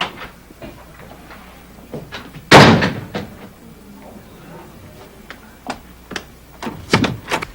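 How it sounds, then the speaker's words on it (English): A front door shuts with one sharp, loud slam in a sitcom home, followed by scattered knocks and thuds of movement, with voices faintly present. "that's the front door closing"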